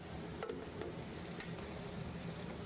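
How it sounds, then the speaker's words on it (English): Marinara sauce at a full boil in a pot, a faint steady bubbling and sputtering with a few small pops, heard alone with no voices. "I said a simmer. We're not at a simmer. We're at a boil here."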